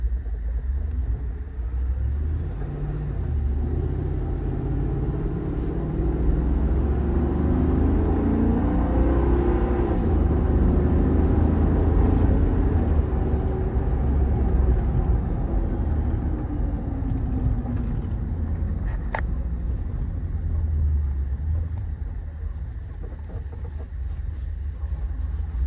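A 2021 Ford F600 service truck with a 7.3 V8 engine, 4x4, crane and Michelin tires, driving at low speed on a short cul-de-sac run, giving a steady deep engine rumble from inside the cab that swells slightly mid-run.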